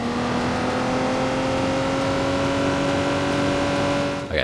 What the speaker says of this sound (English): Okay, this car's fast.